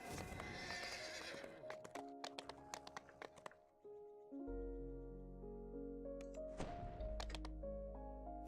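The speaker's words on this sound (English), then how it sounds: "on the horse we get" In a video game, a horse lets out a loud whinny, followed by a run of sharp hoof clops and thunks. Low, sustained tones then carry on underneath.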